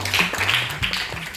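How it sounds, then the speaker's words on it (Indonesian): Students clap in a classroom after a classmate shares an answer, a short, fairly loud burst of hand claps mixed with faint voices. "Kita berikan tepuk tangan"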